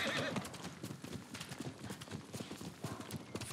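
Horse hooves clip-clopping while riding in the samurai game Ghost of Tsushima, a quick steady run of close hoof beats with a horse whinny mixed in, moderately loud, no talk over it.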